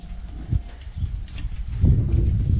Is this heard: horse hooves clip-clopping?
yes